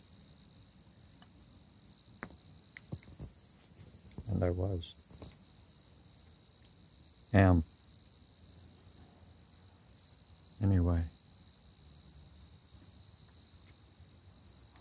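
Crickets chirp in a continuous high, shimmering trill at 4:45 in the morning, steady and moderately loud, while someone speaks briefly in a few short low bursts over it.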